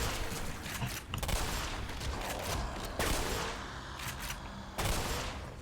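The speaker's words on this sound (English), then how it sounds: "I do love that the simplicity of a shotgun can take them out" A shotgun fired in the Black Mesa video game, with a few loud, sharp blasts spaced roughly two seconds apart, each trailing off into a brief rumble.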